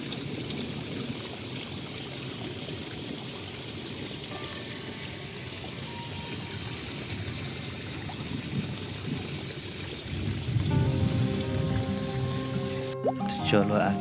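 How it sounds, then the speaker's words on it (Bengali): Water runs over a small waterfall near a mud house on a rainy day, a steady broadband rush that swells louder partway through, with voices speaking over it. "আর এটা একটা ছোট ওয়াটারফল, এটা দিয়ে জল পাস হচ্ছিল।"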